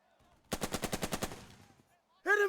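Rapid automatic gunfire in the WWII tactics game Burden of Command, a tight burst of about eight evenly spaced shots that trails off, followed by a short loud blast near the end.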